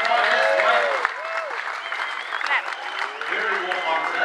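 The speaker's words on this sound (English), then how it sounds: "a big round of applause, come on guys, make a bit of noise for the tiger" Crowd applause at an outdoor tiger show on the Gold Coast, steady clapping with people talking and calling out over it, while whistle-like tones rise and fall above.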